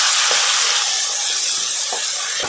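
Chopped tomatoes and onion frying in a pan for corn upma, a steady loud sizzling hiss with a few faint stirring taps, no voices.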